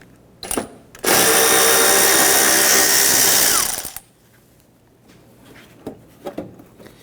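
A cordless power drill or impact driver loosens a 10mm bolt on top of a headlight assembly of a 2006-2014 Honda Ridgeline, one loud steady whirring burst of about three seconds with quiet handling clicks before and after.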